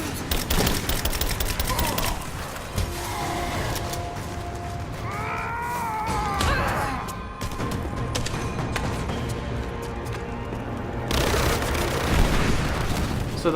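Gunfire and mechanical clatter from combat against enemies in Rise of the Tomb Raider, a steady dense barrage of loud shots and impacts throughout, with brief whistling game effects midway and a harsher burst near the end.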